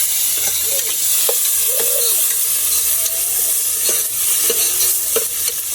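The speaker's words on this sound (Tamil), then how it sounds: "நல்லா வதக்கணும், நல்லா வதக்கணும்." Chopped onions with curry leaves sauté in a hot pan for a meat curry, giving a loud, steady sizzle throughout. Occasional scrapes and clinks of stirring cut through the sizzle, with no talk.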